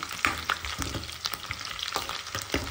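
Cardamom and bay leaf lightly roasting in hot oil in a pan, a soft steady sizzle with scattered crackles and a few sharp stirring clicks, close and fairly quiet, no talk.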